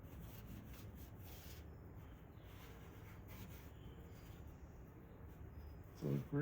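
Applicator pad rubbing Cerakote ceramic trim coat onto Hummer plastic trim, a faint, steady scuffing swish of wide back-and-forth swipes close to the microphone, ending in a brief louder scrape.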